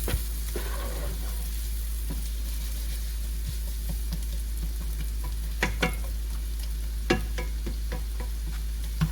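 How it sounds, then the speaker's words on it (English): Onions turning glassy frying in a pan for cottage pie, a steady close sizzle broken by a few sharp scrapes and knocks of stirring. "we'll just give it a stir, and it's just going to take a couple of minutes"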